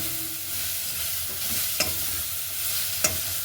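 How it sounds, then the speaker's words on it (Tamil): Carrots and other vegetables for rava upma fry in a pan with a steady sizzle broken by two brief scrapes of a spoon, close and clear, with no one speaking. "நல்லா பொறிஞ்சு வரது"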